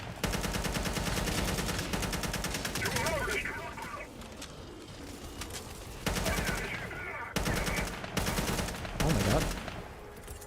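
Rapid bursts of gunfire in a first-person shooter, with flame grenades and explosions nearby, rattle loudly and almost continuously under excited voices, with short pauses between volleys.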